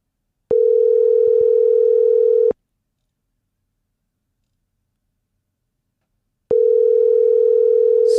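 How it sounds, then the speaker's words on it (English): Two long electronic ringback tones, each about two seconds, separated by a lengthy silence, steady and clear like a phone line ringing. "Okay, it's ringing this time."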